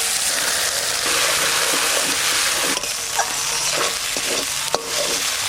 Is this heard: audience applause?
no